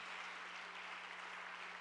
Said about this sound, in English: a round of applause for the sponsors